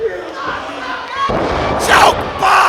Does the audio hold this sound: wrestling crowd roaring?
yes